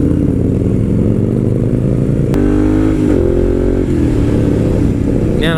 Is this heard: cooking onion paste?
no